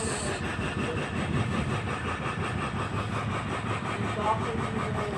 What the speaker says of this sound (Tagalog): Ito nga pala yung in-overhaul namin last time na 4K engine, naka-mounted na siya.